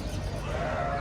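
Woolly goats at a goat slaughter place in Makkah give a short, close bleat over a steady background of livestock-pen noise.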